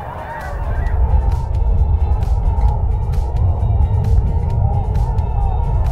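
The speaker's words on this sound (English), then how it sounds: "But the biggest spectacle of all is the snow geese." A large flock of migrating snow geese honking continuously, a loud dense chorus of overlapping calls at a wildlife habitat area, steady throughout with no pauses.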